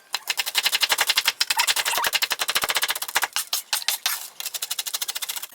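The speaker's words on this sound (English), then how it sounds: "first we're gonna coarsely chop our peanuts up" A knife chops peanuts coarsely on a board for microwave peanut brittle, making rapid, sharp repeated taps close by in a quick machine-like rhythm, with brief pauses between bursts and no talking.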